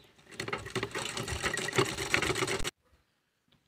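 Close, steady whirr of a sewing machine stitching a round fabric stationery pouch, running for under three seconds and then stopping abruptly into near silence.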